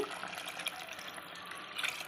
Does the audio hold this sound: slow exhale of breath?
no